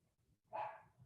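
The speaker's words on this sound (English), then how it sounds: "that's my dog. I don't know if you guys hear it." A single dog bark sounds from a short distance, loud and brief, rising over a quiet room with a faint low hum.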